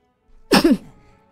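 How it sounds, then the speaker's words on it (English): One short, sharp human sneeze, close and loud, preceded by a faint intake of breath, in an otherwise quiet room. "Ah, I feel a sneeze coming."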